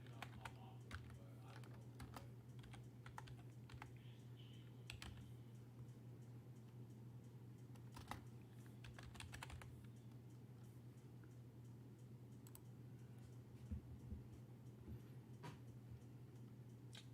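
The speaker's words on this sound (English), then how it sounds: "Notice what I type here." Keys clatter on a computer keyboard in a quiet room, a faint, close run of irregular clicks and taps over a low steady hum.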